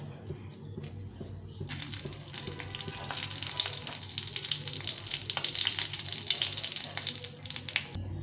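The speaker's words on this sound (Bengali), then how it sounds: "প্রথমে একটু শুকনো লঙ্কা ভেজে নেব।" Dry red chillies fry in hot oil in a kadai, a low hum giving way to a loud, spreading sizzle that swells and crackles, then cuts off at the end.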